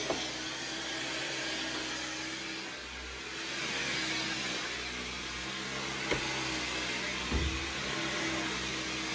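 A vacuum cleaner runs steadily in a home as the floor is cleaned, a continuous broadband whir with slight swells in loudness and a few small knocks, no talk over it.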